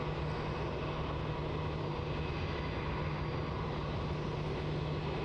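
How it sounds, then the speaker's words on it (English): A Qantas Airbus A330-200 widebody on approach to Melbourne Airport, a steady distant jet roar with a low hum, constant and unchanging throughout. "we have a heavy on approach. This is going to be the Qantas flight from India. QF70 from Delhi, the Airbus A330-200."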